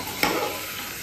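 Turmeric and salt frying in a pan while being stirred, giving a steady close sizzle with one sharper stir scrape near the start, no voices.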